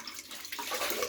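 Lukewarm water running from a tap for a wet shave, a short steady splashing gush that grows a little louder, close and alone.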